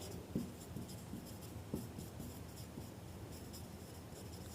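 A pen scratches across paper while a maths solution on triangle angles is written out, soft close strokes and taps in an irregular rhythm over a faint steady background hum.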